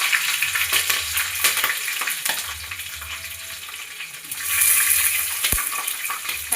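Green chilies frying in hot oil in a pan with curry leaves for gongura pulao, a steady close sizzle with a few stirring scrapes and one brief sharp clink, no voices.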